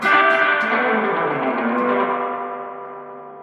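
Electric guitar played through a Strymon El Capistan tape echo with overdrive and reverb, rockabilly style: a single sustained distorted chord rings out loud and close, washing into echoing reverb that slowly decays.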